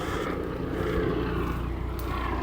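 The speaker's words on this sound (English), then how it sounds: "Sorry guys, there's a helicopter." A helicopter flies overhead outdoors, a steady, fairly loud rotor and engine drone that fills the whole moment without letting up.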